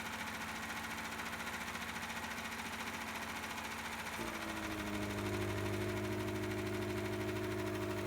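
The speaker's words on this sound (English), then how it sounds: "let the supercharger pretty much spin and do nothing" An AMR supercharger spins unloaded with its induction pipe disconnected, giving a steady mechanical whine and hum that shifts to a higher, fuller drone midway through and stays continuous, with no talking.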